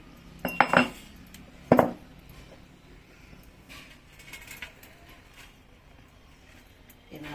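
Curry leaf chutney is scooped out of a pounding vessel, with a couple of brief metallic clinks and scrapes of a spoon against the container up close, followed by faint quiet handling.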